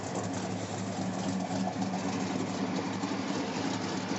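The 440 V8 of a 1969 Dodge Dart GTS with factory exhaust idles with a steady, slightly uneven lope, a continuous low rumbling burble close by with no talking.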